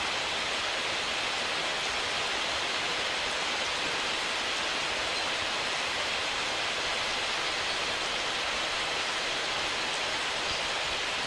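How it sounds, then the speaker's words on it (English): Heavy, steady rain hisses continuously in Morrowind, a dense, even wash of noise with no distinct drops, loud and close throughout with no voices. "Look how loud that rain is."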